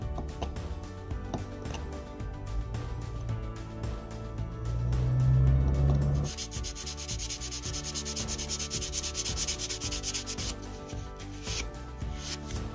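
Steady rasping sanding of a hardwood butterfly carving cut from an extremely hard wood, a continuous rubbing texture that runs throughout over quiet background music.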